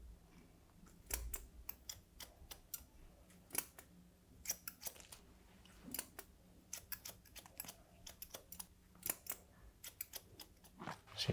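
Hair-cutting scissors snip a man's hair during a haircut, giving sharp, close metallic clicks in quick irregular bursts over a low, quiet room hum, with no talking.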